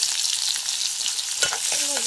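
Panch phoron spices, chopped onion and chilli hitting hot oil in a pan, giving a steady bright sizzle throughout, with a short clatter as a spoon stirs near the end.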